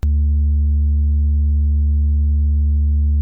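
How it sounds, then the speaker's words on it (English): A sustained synthesized bass tone from a track, a deep, steady, pure-sounding note that holds loudly and evenly throughout with no talk. "It's a very sustained bass"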